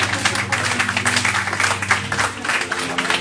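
A church congregation applauding the Lord: dense, sustained clapping from many people, loud and continuous for the whole stretch, with a few voices mixed into the crowd noise.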